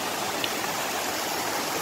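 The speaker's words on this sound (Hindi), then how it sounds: "देखिए खूबसूरत झरना, ये देखिए खूबसूरत झरने की तरफ हम आपको ले जा रहे हैं।" Broadband rushing water of a scenic waterfall, steady and continuous with no breaks, moderately loud throughout and heard alone without any talk.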